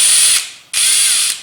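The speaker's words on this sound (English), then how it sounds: "Reverse on the drill." A cordless drill running in reverse at slowest speed on a stubborn screw whirs in two short high-pitched bursts with a brief pause between, close and loud, with a ratcheting mechanical edge.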